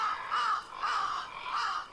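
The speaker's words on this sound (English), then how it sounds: "A murder of crows is eating eagerly." Crows in The Last Door video game caw in three loud, harsh bursts about half a second apart, a murder of them feeding eagerly with no speech over them.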